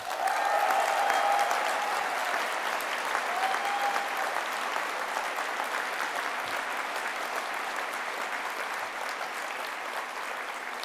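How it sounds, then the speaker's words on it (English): A graduation ceremony audience at the University of Stirling applauds in a sustained wave of clapping. It starts loud and holds steady, then eases slightly, with faint cheering in the hall. "They may be watching, so give them a cheer."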